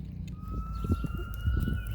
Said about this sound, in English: We're definitely in the city here, as you can hear behind me. Fire trucks coming down.